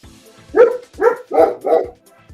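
Dogs barking close by, four loud evenly spaced barks in a quick row, followed by a faint trailing yip, with no talking.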